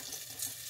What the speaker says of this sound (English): The butter's melting nicely, as you can see.